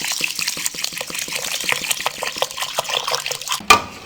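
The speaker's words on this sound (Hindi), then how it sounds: "अब दूसरी तरफ हम चावलों को पानी में भिगो देंगे।" Water running from a tap into a vessel as rice is soaked for beef pulao, a steady splashing, gushing flow with rhythmic pulses, close and fairly loud, ending with a brief clatter.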